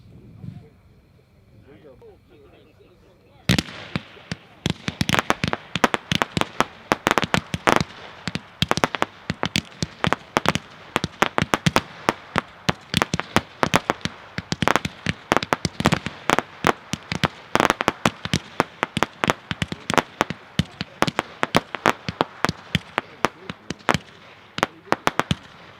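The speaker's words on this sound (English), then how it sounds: "We're going to shoot them all at once." Several Spirit of '76 Pro line multi-shot firework cakes, 16 shots each in five colors, fire all at once, a loud rapid barrage of launching thumps and bangs that begins abruptly after a few quiet seconds and continues steadily outdoors.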